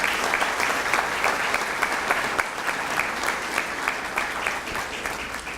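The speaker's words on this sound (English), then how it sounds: "How about a round of applause for Amby Tanner?" Audience applause at a McAllen ISD Partners in Excellence breakfast program honouring an educator, steady dense clapping throughout with a few sharper claps standing out, moderately loud and without talk.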